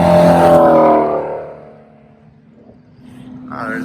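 A Ford Mustang GT350 passes on a race track, its engine roaring loudly as it goes by and then fading into the distance, with another engine note rising again at the end.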